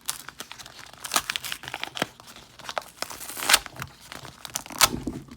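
Crinkly plastic wrapper of a Pokémon Unified Minds booster pack being peeled open by hand, giving close, irregular crackles and tearing rips in short bursts, with two sharper rips near the end and no talking.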